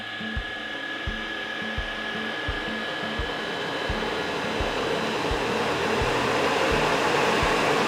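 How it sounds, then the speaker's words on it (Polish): Electric fan motor driven by a frequency inverter spinning up, a loud continuous whirring hum with a steady tonal whine and a regular low thumping pulse throughout, no voices. "Rozpędzamy nasz wentylator."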